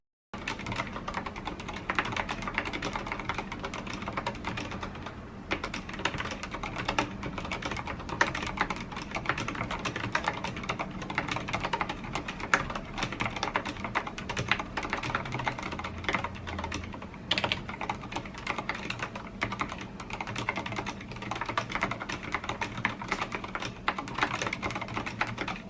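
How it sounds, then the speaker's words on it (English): NACODEX AK510 mechanical keyboard with brown switches and Cherry stabilizers being typed on, a fast continuous stream of close, soft tactile key clacks for nearly half a minute with no talking. "here's what the keyboard sounds like."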